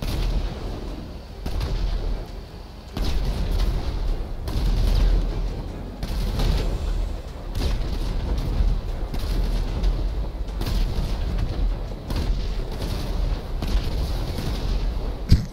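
Tank cannon fire in GTA 5, with repeated loud booming blasts and rumbling explosions at irregular intervals over a steady roar of battle noise.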